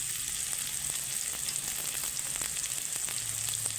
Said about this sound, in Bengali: নুন ছাড়াই ভাজবো পেঁয়াজটাকে।